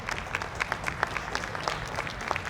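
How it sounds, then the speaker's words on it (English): An audience applauds after a women's open final at an indoor archery classic, a fairly soft, scattered patter of clapping from a modest crowd with individual claps standing out. "Let's have a round of applause for Brenda and Katie, please"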